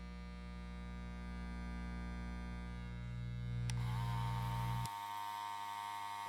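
A cordless Andis Master hair clipper runs with a steady, loud electric buzz and hum that shifts in pitch partway through, then drops abruptly near the end, with no talking.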